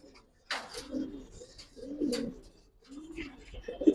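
Pigeons coo softly in a quiet indoor loft, several low throaty calls in succession with short pauses between, some brief fluttery noises mixed in.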